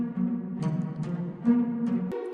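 A pizzicato string melody slowed and thickened by the Halftime plugin's stock preset, playing as a steady plucked line with a heavy low-mid body and a few sharp note attacks, alone and fairly loud.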